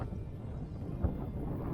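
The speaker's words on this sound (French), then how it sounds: "Regardez-moi ce vent quoi." Steady wind buffets the microphone in a continuous low rumble on a pond, with the faint drone of a small boat motor underneath and no voices.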